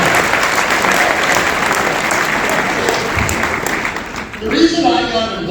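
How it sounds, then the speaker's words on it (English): Roughly 800 people at a political event in Okotoks break into a big round of applause, loud and sustained, then it thins and fades as a voice starts speaking near the end. "Let's have a big round of applause."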